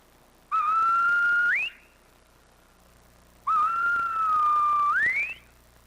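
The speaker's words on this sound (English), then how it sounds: "Across the steep volcanic cliffs of Gomara, language is not spoken, but whistled." Two long, clear whistled phrases of the whistled language of La Gomera in the Canary Islands, each a sustained rising tone ending in an upward sweep, loud and alone with a pause between them.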